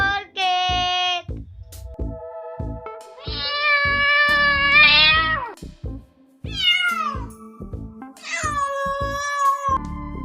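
A cat meows loudly and close by, giving several long drawn-out meows separated by short gaps. Soft thumping sounds are heard between the calls.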